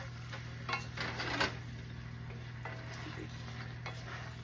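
Eggplant and mixed vegetables get stirred in a pan, a spatula scraping and clacking in short bursts over a quiet sizzle and low hum, close and without talk.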